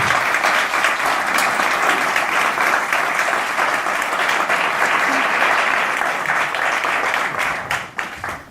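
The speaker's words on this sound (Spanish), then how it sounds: "Bueno, un aplauso, ¿no?, para Marta." A lecture audience applauds a speaker named Marta after a talk on mindfulness in education, with dense sustained clapping filling the hall at full loudness before it thins out toward the end.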